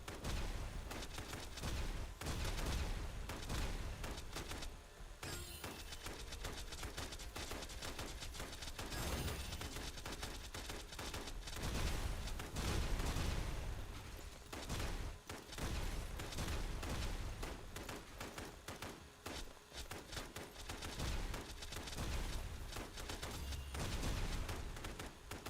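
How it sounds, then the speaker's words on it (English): Video-game gunfire from a shooter, dense and continuous bursts of rapid shots and impacts layered over booming background game audio, loud and sustained with brief lulls. "We're shooting through this one guy."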